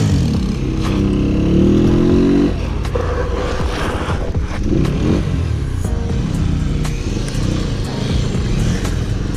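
Motorcycle engine revving as a ride starts on a long ride, a steady loud mid-range engine roar with a rising rev early on, near and continuous with faint voices underneath.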